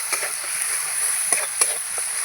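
Pointed gourd tossed with turmeric and salt in a hot pan gives off a faint, steady sizzle, broken by a few soft scrapes and taps of the spoon as it is stirred.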